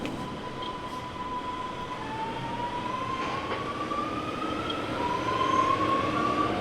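A train heard from inside a moving carriage. A steady rolling rumble carries a faint high wheel squeal or whine that drifts slowly upward and grows slightly louder toward the end, and no one speaks.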